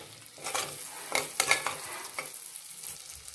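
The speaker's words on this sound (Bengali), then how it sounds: "আদা পেস্ট দেবো। ভালো করে মিশিয়ে নিচ্ছি আমি।" Ginger paste being stirred into a sizzling mixture for Kashmiri aloo dum, with steady frying hiss under repeated scraping strokes and a few sharp spoon clacks against the pan.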